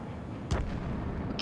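Gunfire in Ace Combat 7 aimed at shooting down cruise missiles, a single loud booming shot over a constant roaring background with another burst starting right at the end.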